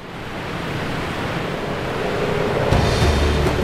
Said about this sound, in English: The Iguaçu Falls.